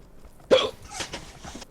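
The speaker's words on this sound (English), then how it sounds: "You got the hiccups." A single hiccup from a person, a short sharp vocal catch followed by faint breathy sounds, quiet and close with no talking.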